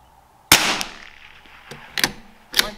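A Savage Mark II rifle fired with SK Pistol Match ammunition, giving three or four sharp, loud, close cracks spaced a second or so apart, the first followed by a brief decaying echo.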